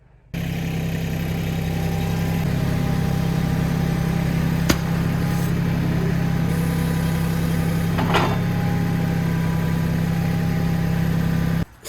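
A tractor engine idles steadily close by at a job site while a steel beam is lifted with its bucket, a continuous low hum with two brief clanks partway through.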